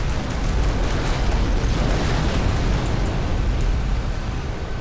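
A spaceship blows up in the space combat game Between the Stars, a dense, sustained roaring rumble of explosion noise that fills the whole stretch loudly without letting up, with no talk.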